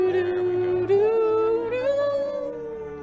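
Dogs howl a Christmas song, holding long, tuned notes that step up and down in pitch like a slow melody, loud and close at first and fading slightly toward the end.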